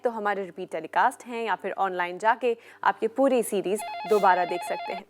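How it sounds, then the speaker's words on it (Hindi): A TV studio telephone trills with a rapid electronic ring near the end, sounding under a host's continuous talk. "आई एम श्योर फोन की घंटियां आप सुन पा रहे हैं, क्योंकि हमारे फोन्स नॉन स्टॉप रिंग कर रहे हैं।"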